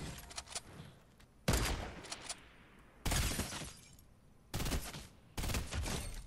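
Burst rifle fire in the Fortnite Christmas update: four sharp, loud multi-shot bursts spaced a second or so apart over quieter game ambience.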